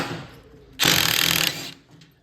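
A small DeWalt impact gun rattles off bolts on an MF 1250 tractor, one loud close burst of rapid hammering lasting under a second, with quieter workshop noise before and after.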